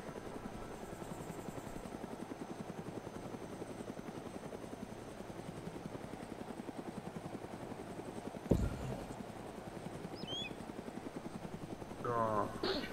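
Helicopter in the video game DayZ, a steady loud rotor chop pulsing evenly throughout, with a sharp impact near the middle and brief speech-like bursts near the end.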